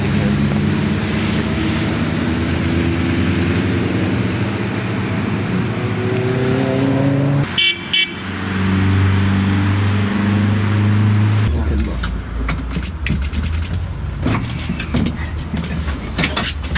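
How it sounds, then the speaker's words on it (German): Vintage sports and racing cars, among them an Auto Union C-Type, a Lamborghini Miura and a Ferrari 275 GTB, roar past at the Rossfeld hill climb race, engines rising and falling through gears, loud and close, with a second burst after a brief gap and people talking. "Hier kommen die Leute mit dem Auto"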